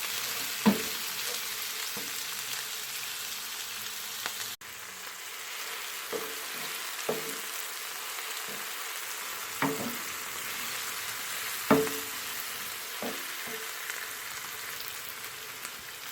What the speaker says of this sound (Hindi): अनियन को अब मैं सॉफ्ट होने तक पकने दूँगी।